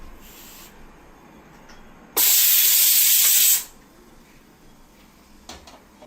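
A pressure cooker used while cooking dinner at home lets out a single loud, sharp hiss of steam lasting about a second and a half, then the room falls quiet again.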